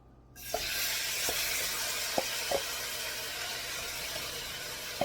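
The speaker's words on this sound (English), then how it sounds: "I have about a tablespoon and a half of olive oil in my pot. To that, I'm going to add a pound of ground turkey." Ground turkey dropped into hot olive oil in a pot sets off a sudden loud, steady sizzle that keeps going, broken by a few sharp clicks and taps of a utensil, with no voices.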